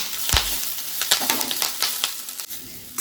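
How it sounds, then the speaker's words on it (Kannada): Food frying in oil in a pan while preparing a drumstick-leaf egg stir-fry, a steady broadband crackling sizzle with a few sharper pops and a utensil clink, close and fairly loud, no talking. "ಸ್ವಲ್ಪ ಚೆನ್ನಾಗಿ ಫ್ರೈ ಆಗಲಿ ಎಣ್ಣೆ ಜೊತೆ"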